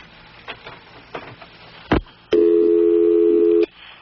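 A telephone is dialed with a few short clicks and a sharp tap, then a steady electronic ring tone sounds loudly for over a second, close and alone without talk.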